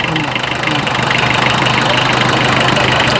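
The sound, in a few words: vintage Fiat diesel car engine running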